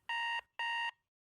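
An alarm clock rings: two crisp, evenly spaced electronic beeps of equal length, loud and close, followed by silence.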